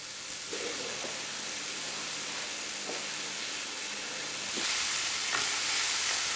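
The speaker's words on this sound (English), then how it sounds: "So you just keep frying this off. Adding a little bit of oil." Flour-coated beef for stew browns in a little oil in a hot pan, giving a steady broad sizzle with occasional crackles and stirring scrapes, growing louder toward the end, with no voices.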